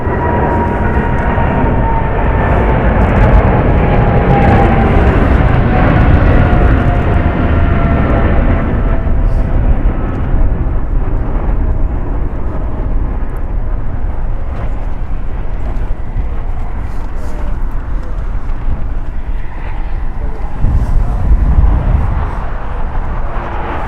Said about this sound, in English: Departing is China Airlines Cargo Flight 5224, going to an unknown destination. It's a Boeing 777 freighter